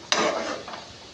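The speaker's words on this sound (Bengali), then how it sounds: "এবার আমি এগুলো ভালো করে নেড়ে দেবো" Vegetables with chopped chilli being stirred in a cooking pan over rising heat: a single sharp scrape of the utensil, then a soft, steady stirring rustle and light sizzle close by, with no voices.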